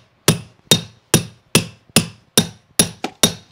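A hammer striking a stair runner tucker tool to snug carpet against a step: eight sharp, close, evenly spaced metallic whacks in a steady rhythm, with one quicker double hit near the end.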